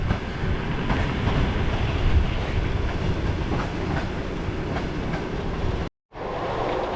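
A train rumbles past close by at Gudžiūnai railway station, Lithuania, with steady clattering wheels and rail noise, cutting out abruptly near the end before resuming briefly.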